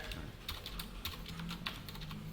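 Quick, light keystrokes on a computer keyboard as JavaScript code is typed, a close, fairly quiet run of rapid clicks lasting a couple of seconds.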